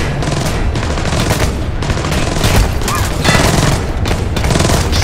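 Heavy gunfire erupts in Splinter Cell Blacklist's Abandoned Mill mission, with rapid overlapping automatic bursts and booming shots hammering continuously at close range, no pauses between volleys.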